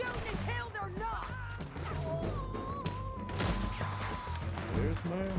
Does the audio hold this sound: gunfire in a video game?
yes